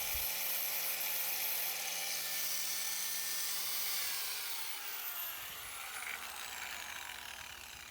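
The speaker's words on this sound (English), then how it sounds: "I just kept spinning and grinding until I was happy with the way it looked" An angle grinder works the freshly cut end of a Ford 9-inch axle shaft, giving a continuous high, harsh whine with a slowly shifting pitch as the shaft is spun against the disc, with no talk.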